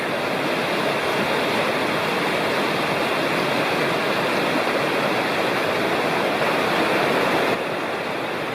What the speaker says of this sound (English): The trail follows Sycamore Creek, which you can hear off to the side for about 2 miles